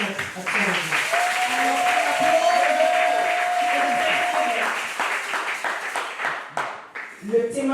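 A church congregation applauds and cheers in a steady wash of clapping, with a sustained held vocal tone, a cheer, running through the middle and voices breaking in near the end as it thins out.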